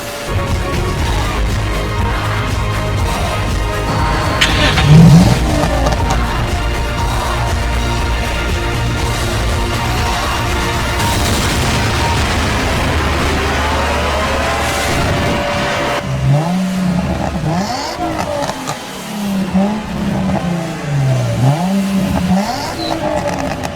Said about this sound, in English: This is Savage revs the engine in celebration for the new Zodiac year